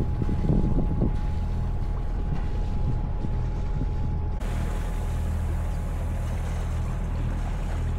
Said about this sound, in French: Du vent de côté.